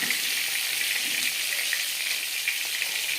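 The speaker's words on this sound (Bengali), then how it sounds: "মাছ ভাজা হয়ে গেছে" Rohu fish fries in oil, making an even, close-up sizzle that crackles steadily with small pops. No voices are heard over it.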